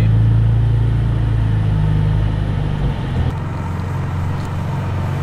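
A BMW M3 rolls off with a loud, close low engine rumble and road noise, a steady throaty hum that shifts in pitch partway through as the car picks up pace.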